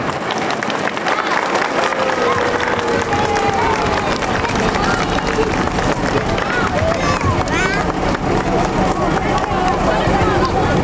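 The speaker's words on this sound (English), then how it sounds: "give them a big round of applause" Sustained, loud applause and cheering from a crowd watching a fire and rescue service house-fire demonstration, dense and continuous throughout with a faint voice and wind noise underneath.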